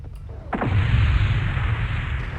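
A volley of six SRM6 short-range missiles launches at once in MechWarrior Online, a sharp loud burst followed by a sustained rushing roar and rumble as the salvo streaks away.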